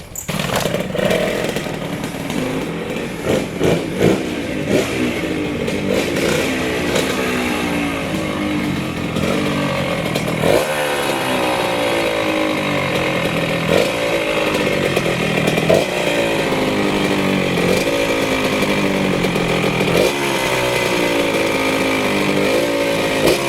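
A 1981 Suzuki RM 80 two-stroke motocross bike is bump started on choke, then its engine revs up and down repeatedly with a loud, buzzing, rising-and-falling whine, close by and continuous.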